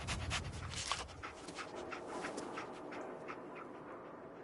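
Dogmeat, the dog companion in Fallout 4, pants in quick, steady breaths close by with faint whimpers over a busy game backdrop, no talk.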